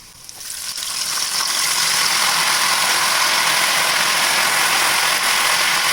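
Raw banana chips fry in hot oil as turmeric salt water is added. The sizzle swells within the first second into a loud, dense, close crackling roar that holds steady to the end, with no voices.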